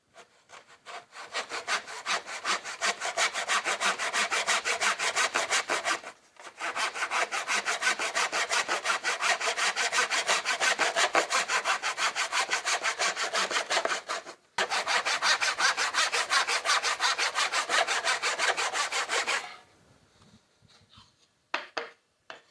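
A handsaw cuts through a wooden board laid over a sacrificial board beneath it, giving fast, even rasping strokes in three long close bursts separated by brief pauses, then a few light knocks at the end.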